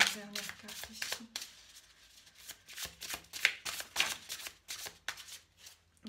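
Tarot cards are shuffled close up in a run of quick papery riffles and flicks, with brief pauses between the bursts, while a voice speaks quietly beneath them.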